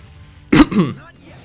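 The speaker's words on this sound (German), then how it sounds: "Da muss ich direkt wieder husten." A single short cough or throat-clearing bark sounds close and loud, briefly interrupting a German video game playthrough session.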